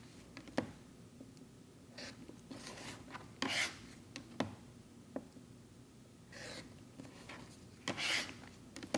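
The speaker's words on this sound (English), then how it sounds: "we'll go ahead and trim around the edges" Fabric edges being trimmed around a foundation paper piecing block, giving soft scattered rasping cuts and brief snips, close and fairly quiet with irregular pauses between strokes.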